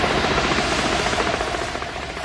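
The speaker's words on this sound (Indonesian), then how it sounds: "Namun saat helikopter mendarat" Helicopter landing, a loud, close, steady rotor thump and turbine roar filling the whole stretch with no voices.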